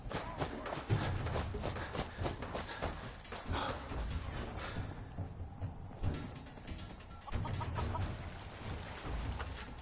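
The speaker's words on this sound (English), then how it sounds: "look, a chicken" A chicken clucks in Fallout 4, soft and intermittent, mixed with game sounds and thumps, while players talk over it.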